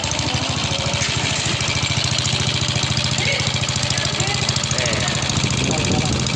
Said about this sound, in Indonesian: Ayo nyalakan Mas Yahya.